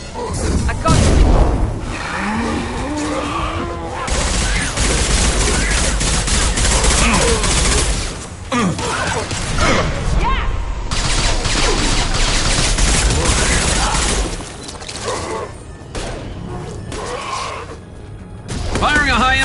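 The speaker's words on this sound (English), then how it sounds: "Firing a high-impact shot!" Mass Effect 2 combat on Insanity difficulty brings dense, loud volleys of gunfire with rapid bursts and crashes almost throughout, and in-game voices call out over the shooting.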